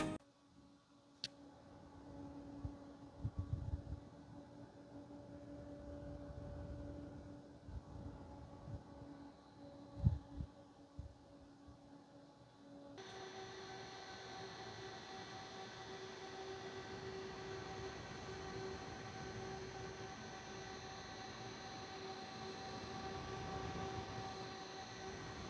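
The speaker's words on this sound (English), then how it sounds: "I will make 2 recordings with the fans at maximum speed" DIY radiator booster fans run at maximum speed: a steady whirring hum with tonal whine, then a shift midway to a second, denser and louder fan drone that holds to the end.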